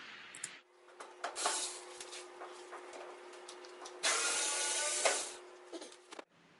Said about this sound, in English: There are 3 screws in the back of the machine. Just remove them like you see here.